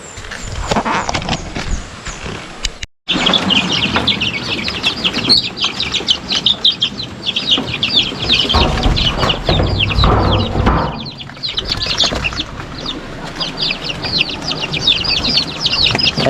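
Chickens cluck and chirp busily close by, a constant flock chatter with occasional louder calls over a rustling background.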